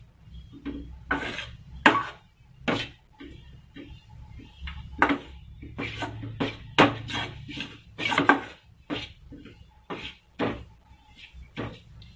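Besan roasting in ghee in a pan over a medium flame, being stirred with a spoon, makes repeated scraping and knocking clinks against the metal in an uneven rhythm, close and clear, with no one talking.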